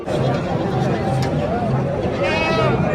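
Goats and sheep bleat repeatedly amid a busy livestock market for Qurbani animals, with a steady babble of crowd voices running underneath the animal calls.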